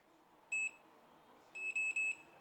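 A single short electronic beep from cordless electric pruning shears, then a pause, followed by three quick beeps in a row; clean, high-pitched, and fairly close.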